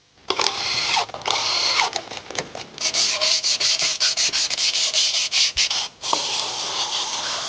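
Rear car brakes being scrubbed clean during a home-service maintenance job, a close, loud rasping of repeated brushing strokes in a quick steady rhythm, briefly pausing before resuming.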